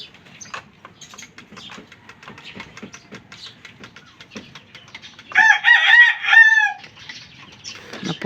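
Gamecock roosters at feeding time cluck and scratch softly nearby, then one crows loudly and clearly partway through, with more clucking around it.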